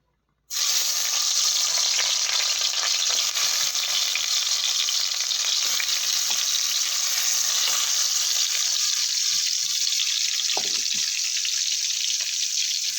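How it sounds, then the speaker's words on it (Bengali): Fish heads dropped into hot oil in a wok: a loud sizzle bursts in abruptly and continues as a steady, bright crackling fry with small pops, close and alone. "আর এখানে মাছের মাথা ভাজবো বলে কড়াটা গরম করে তেলও দিয়ে দিয়েছি"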